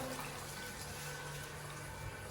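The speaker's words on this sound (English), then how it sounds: "So we'll turn on this tap, let the water run out." Water runs from a Hansa mixer tap opened to release built-up pressure, a constant rushing, hissing flow that holds steady throughout with no talking.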